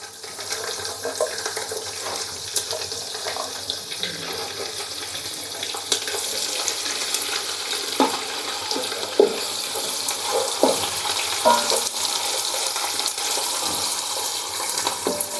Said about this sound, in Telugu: బ్రౌన్ కలర్ వచ్చే వరకు ఇలాగే వేయించుకోవాలి.